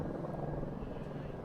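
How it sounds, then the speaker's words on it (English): Garda police helicopter passing overhead during a cricket match in Dublin, a steady loud rotor drone with dense low chopping throughout, no clear break. "Helicopters up above."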